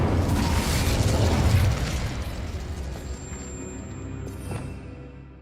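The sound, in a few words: spell explosions in Hogwarts Legacy video game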